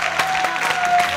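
A studio audience on an Azerbaijani television game show applauds for People's Artist Rasim Balayev, a short burst of dense, close clapping heard alone.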